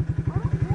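Motorcycle engine running in the woods, a brief close burst of rapid regular low thumps with a light mechanical clatter.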